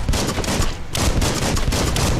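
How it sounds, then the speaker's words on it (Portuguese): Gunfire in the Biomutant action game, dense rapid bursts of shots in quick succession, loud and close with a brief gap midway, no talking over it. "ele dá tiro pra trás e pega um cara na frente"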